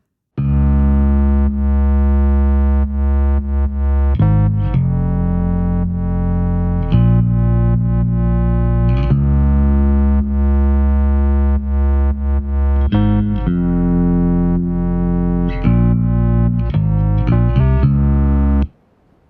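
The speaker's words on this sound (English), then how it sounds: "So if we listen to the bass, the sub, and that synth, this is how it sounds all together." A layered bass part from an electronic song, with a deep sub bass, a distorted bass and a harsh, wide chorus-laden synth. The parts play sustained notes together, changing pitch in steps, loud and steady with no voice.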